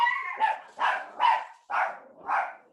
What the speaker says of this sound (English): Oh, the Christmassy sounds of dogs in the background.